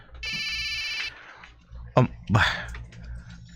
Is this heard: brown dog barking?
no